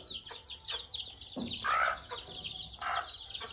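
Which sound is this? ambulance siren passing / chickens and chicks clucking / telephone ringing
chickens and chicks clucking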